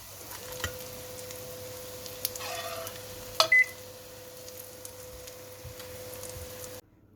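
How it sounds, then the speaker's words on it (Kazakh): Egg cutlets fry in oil in a pan, a faint, steady sizzle with a soft hum throughout, a couple of brief clicks or beeps near the middle, and quiet background; no speech. "Осылай барлығын қуырып аласыздар."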